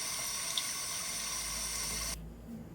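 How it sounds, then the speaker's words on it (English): Cold tap water runs steadily into a sink over cut potato chips, a bright continuous splashing hiss that cuts off abruptly near the end, leaving a faint room tone. "now I'm going to run them under a cold tap for about a minute"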